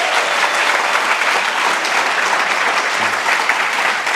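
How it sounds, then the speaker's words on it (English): Theatre audience at a dance show in Bermuda applauding the dancers, a loud, dense and sustained roar of many hands clapping with no break. "So please applaud the dancers."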